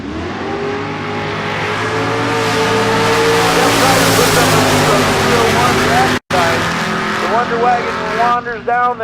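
A Camaro drag car launches down the strip at a bracket race shootout, its engine roaring loud and rising through gear changes before a brief cutoff and more revving at the end.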